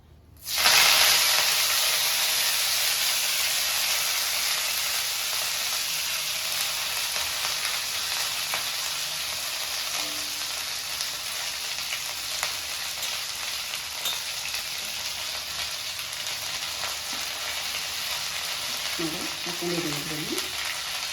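Curry leaves roasting in a pan over medium heat, a steady loud sizzle and hiss that flares up when the leaves go in and then holds for the whole stretch, with occasional stirring scrapes.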